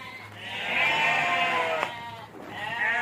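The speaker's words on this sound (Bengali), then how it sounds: "এই যে ছাগলগুলো ডাকতেছে" Goats bleat close by, a few drawn-out wavering cries one after another with a short pause between them.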